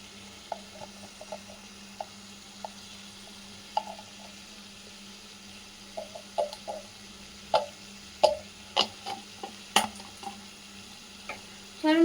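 Spice masala frying in oil while being stirred with a spatula, for aloo dum: sporadic scraping knocks and clicks over a faint sizzle and a steady low hum, growing busier toward the end.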